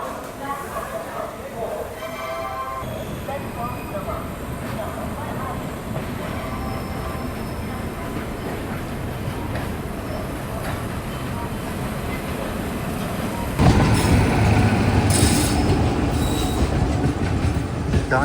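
The Amrit Bharat Express on the Banaras–Sealdah route runs with a continuous rumbling clatter of wheels on rails and thin squeals. The noise swells noticeably louder near the end, and faint voices may sit beneath it.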